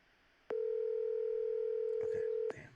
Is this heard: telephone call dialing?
yes